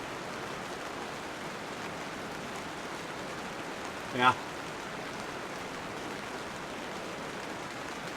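Steady rain falls on an SUV tent during car camping, a soft, even hiss throughout, with a brief short voice near the middle.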